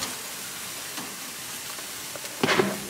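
Al pastor pork being stirred and fried in a skillet, a steady low sizzle with a louder hissing burst near the end, close by and without talking.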